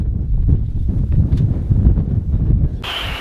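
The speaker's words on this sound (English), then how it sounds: "the wind's really coming up" Strong wind gusting over Long Lake (Lake Spokane) buffets the microphone with a loud, continuous low rumble, ending in a brief hissing burst.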